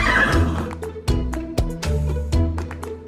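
A horse whinnies loudly and close by, its neigh joined by sharp intermittent knocks like hooves, with no one speaking.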